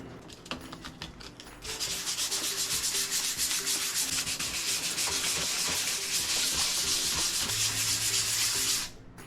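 Sanding sheets scrub steadily over the body of a 1987 Jeep Wrangler, worn clear coat coming off to red paint; a few knocks start things, then a dense, continuous rasping hiss runs close and loud for about seven seconds before stopping abruptly.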